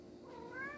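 A house cat gives a single short, faint meow, quiet and close, with no talking over it.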